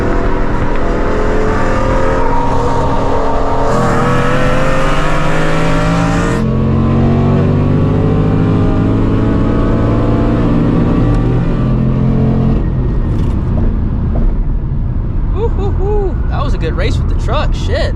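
Engine of a 2024 Ford Mustang GT (S650) accelerating hard while racing a truck, its revving note climbing through gears loud and close, with people talking over it.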